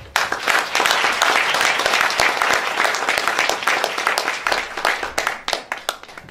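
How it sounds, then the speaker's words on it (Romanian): A lecture audience at a conference claps loudly, a dense burst of many hands that starts abruptly, holds strong, then thins into scattered claps toward the end, with no speech over it. "Bine că l-ați aplaudat pe el"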